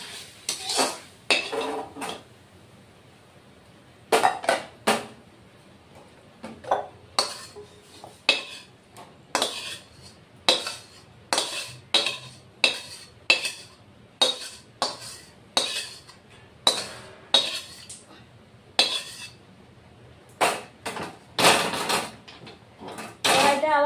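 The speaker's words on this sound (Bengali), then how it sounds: "কড়াইটা আবার বসিয়ে দিলাম।" Metal wok and pans clatter and clink repeatedly at close range while a Bengali puishak chorchori with fish head is cooked, sharp irregular knocks and scrapes spread through the whole stretch with no voices.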